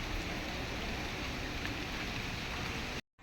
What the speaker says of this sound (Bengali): বাইরে তো মুসলধারে বৃষ্টি নেমেছে বাইরে চলছে অবিরাম বৃষ্টি